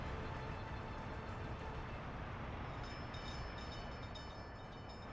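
Construction trains in the Workers and Resources city-building game give a steady, faint rolling rumble with light rail clatter that stays even from start to finish.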